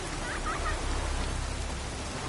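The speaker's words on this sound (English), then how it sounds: "Raining fucking buckets." Heavy rain in The Witcher 3: Wild Hunt, a dense, steady downpour hiss filling the scene at close range, with a voice speaking faintly beneath it.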